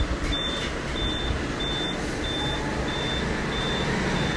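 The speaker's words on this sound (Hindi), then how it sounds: "ये बीप देता रहेगा" An APC 1500VA 24V UPS inverter running on a low battery gives a repeating series of short, evenly spaced high beeps under a loud, steady background hum.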